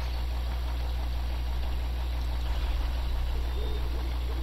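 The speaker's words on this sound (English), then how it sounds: "Okay, so now we got the Jeep running." A Jeep's engine runs steadily in the off-road driving game Spintires, with a low, constant idling rumble and a slightly rougher pulse partway through. No one speaks.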